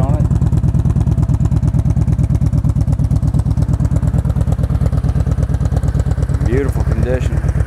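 Kawasaki Vulcan Voyager 1700cc motorcycle with a Vance & Hines exhaust idles close by, a steady loud low pulsing throb throughout, with a brief voice-like squeal near the end.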